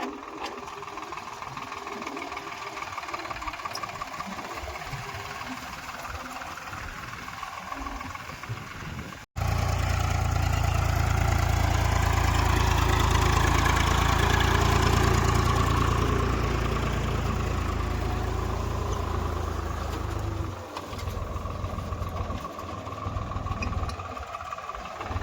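A Swaraj tractor engine running in a field during jowar sowing, a loud steady diesel chug close by that deepens and swells after a brief cut, then eases back toward the end.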